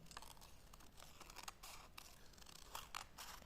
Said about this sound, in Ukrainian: Ось так ножицями, хвилясті такі, похвилясті.